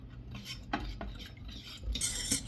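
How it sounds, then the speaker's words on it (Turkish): A spoon stirs a sauce of sour cherry juice, starch, sugar and butter in a pot over the stove, with soft scraping strokes and a few sharper clinks against the pot at irregular intervals, close and fairly quiet, with no talking. "Ocağımızın altını yakıp malzemelerimizi karıştırıyoruz."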